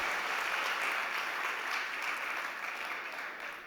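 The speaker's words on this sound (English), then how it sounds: "Can we have a big round of applause for Claudia Requejo from Mobi?" Audience applause for a startup pitch at a mobility and smart cities startup competition, a steady dense clapping from a crowd that holds strong throughout and tapers slightly toward the end, with no talk over it.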